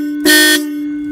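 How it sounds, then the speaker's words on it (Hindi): One short, loud, blaring motorcycle horn honk, car-like in tone, from a modified Hero Passion Pro, sounding over a steady low hum that continues after it stops. "ये गाड़ियों जैसी हॉर्न यार"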